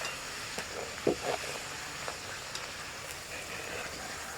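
Poori frying in hot oil on a gas flame at medium heat, a soft steady sizzle with a few brief bubbling bursts, fairly quiet, with no voices.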